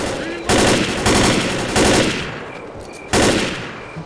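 Bursts of automatic gunfire from the video game Left 4 Dead, with four loud, rapid volleys a second or so apart and brief gaps between them.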